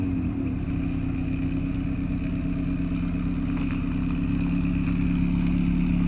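A JDM Honda Integra engine idles steadily while warming up, a constant low rumble holding even and close throughout with no revving or voices.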